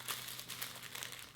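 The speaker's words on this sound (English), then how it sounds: "Don't you just love that rustling sound of the tissue paper?" Tissue paper packing from a Chanel bag unboxing rustles and crinkles steadily for about a second and a half, a soft, close, continuous papery crackle with no voices.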